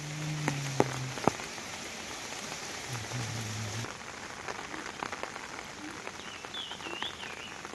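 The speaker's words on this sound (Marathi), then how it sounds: "सिंधुदुर्गात रात्रीपासूनच पावसाचा जोर वाढलाय" Heavy monsoon rain pours down in Sindhudurg, a steady broadband hiss throughout with a few faint tonal calls and scattered drips in the background.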